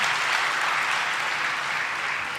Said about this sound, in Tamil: கைத்தட்டலோடு நம்ம வரவேற்றலாம்.